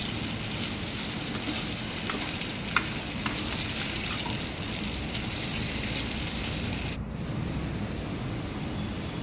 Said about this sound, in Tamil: இதை நல்லா நம்ம ஹை ஃப்ளேமில் வச்சு தேவையான டைம் நல்லா ஒரு ப்ரௌனிஷ் கலரில் வர வரைக்கும் நல்லா இது பண்ணிக்கலாம், வறுத்துக்கலாம்.